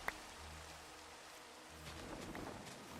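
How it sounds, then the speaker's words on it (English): Steady rain falls in the game Echocraft, an even soft hiss with faint pattering drops all the way through, plus a low tonal hum and one brief click at the start. "There's no problem with the rain."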